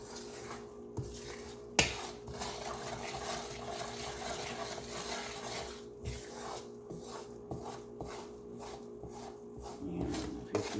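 Enchilada sauce being stirred in a pan, soft scraping and occasional light knocks of a utensil against the pan over a low steady hum, with one sharper clack near the start.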